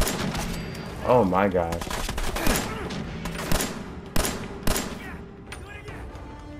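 Rapid gunfire bursts crackle in Fallout 4, several sharp shots spaced through the stretch over game background sound, with a player exclaiming briefly near the start.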